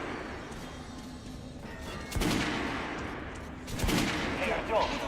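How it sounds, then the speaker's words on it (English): Gunfire from the shooting range in the video game Metro Last Light Redux: a few sharp, loud shots and short bursts ring out close by over a steady low background hum. "Head over to my range and try out those guns."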